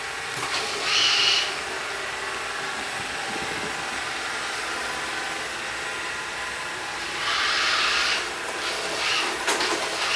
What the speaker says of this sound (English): let's see how this robot will move around a room